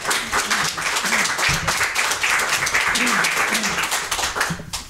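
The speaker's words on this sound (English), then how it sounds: "Let's give him a round of applause." Audience applause at a church talk on bucket lists and forgiveness, steady broadband clapping lasting the whole stretch, with voices and cheering mixed underneath.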